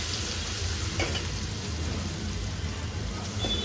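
Crushed chili and garlic fry in hot oil for a tomato chutney, giving a dense, rain-like sizzle that stays fairly even and close throughout.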